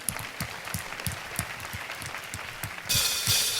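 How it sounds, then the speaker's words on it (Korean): A church congregation at a Sunday evening praise service claps in rhythmic unison, steady beats continuing while voices sing along underneath. "주님 홀로 영광 받으시길 소망하며 주님 앞에 우리 영광의 박수 올려드리겠습니다"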